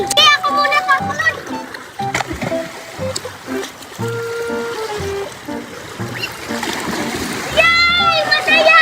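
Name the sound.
children jumping into the sea, water splashing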